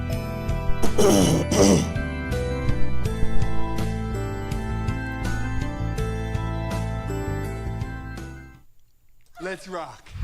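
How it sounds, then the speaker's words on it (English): Someone clears their throat roughly over loud ongoing music, then a short vocal rasp follows once the music cuts out. "Let me clear my throat."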